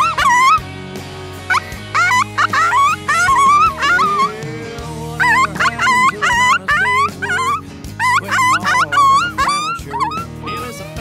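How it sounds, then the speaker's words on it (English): An electronic predator call plays coyote sounds in the Nevada high desert: loud, close yips, howls and wavering whines repeat in rapid bursts with short gaps between them. "all of a sudden Clay switches to coyote and I'm thinking, good call"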